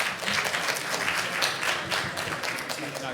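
Applause from a conference audience at an energy event fills the room, a dense, steady wash of many hands clapping at moderate distance, with no pause for its whole length.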